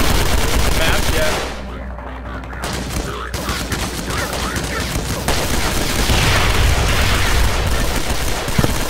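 Grenade launcher blasts and constant explosions in the SMOD Outbreak video game, a loud, dense, unbroken wall of booms and gunfire that thins briefly early on before building back to full intensity.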